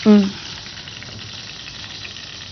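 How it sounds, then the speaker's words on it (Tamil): Butter sizzling and frying in a pan, a steady faint hiss after a brief louder burst at the start, with no talking. "இப்போ இதுல வந்து நம்ம வெண்ணெய் போடுறோம்."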